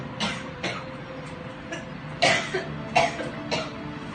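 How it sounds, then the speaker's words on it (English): A girl coughs in a string of short, sharp bursts, about eight over four seconds, with the loudest coughs near the end, close and clear over a quiet background. "why are you coughing so much now?"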